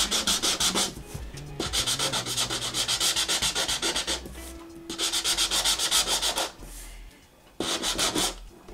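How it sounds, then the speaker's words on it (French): Paper rectangle being roughly sanded with a sanding block for a scrapbooking page, close scratchy back-and-forth rubbing in several quick bursts separated by short pauses. "Je prends mon premier rectangle que je ponce grossièrement avec mon bloc."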